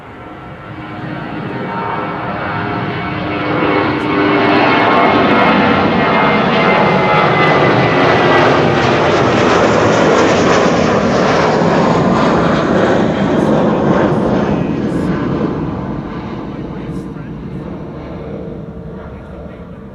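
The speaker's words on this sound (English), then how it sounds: "that was a Cessna Citation CJ2" A Cessna Citation CJ2 business jet takes off at Amsterdam Schiphol, its broad engine roar building, staying loud for several seconds, then tapering as it passes and climbs. Speech is faint beneath it.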